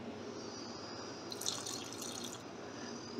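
Water poured into a pot of Indian chicken curry, a soft trickling pour that rises for about a second in the middle, then continues as a faint steady stream over a low room hum.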